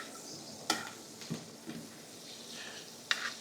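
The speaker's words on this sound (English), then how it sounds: "start to brown this butter off a little bit. And just start a little baste it." Butter browning in a pan in a hotel kitchen while being basted, a soft low sizzle broken by a few sharp clinks of a spoon against the pan, fairly quiet throughout.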